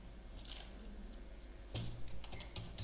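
Someone types C++ code on a computer keyboard, producing soft, irregular key clicks with a couple of louder taps near the end. The typing is quiet and sounds close.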